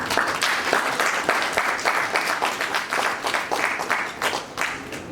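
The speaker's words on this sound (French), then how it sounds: "qu'on puisse l'applaudir au moins pour quelques secondes" Dense, steady audience applause fills a hall at a workshop for religious and traditional leaders across Africa, many hands clapping together at an even level for a few seconds before easing off slightly.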